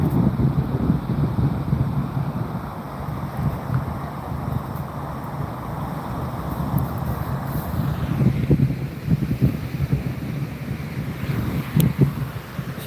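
Steady wind buffets an outdoor campsite, a continuous broadband rush with gusts swelling and easing throughout, close to the microphone and with no voices.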